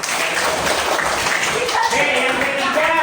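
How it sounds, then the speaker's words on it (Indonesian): Indonesian classroom students clapping for a classmate named Dani, brisk dense hand claps filling the room at close range, with voices mixed in. "tepuk tangan untuk Dani."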